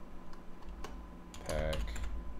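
Two-finger typing on a computer keyboard, a sparse run of separate key taps that turns into a quicker cluster of clicks near the end, close and clear, with no voices.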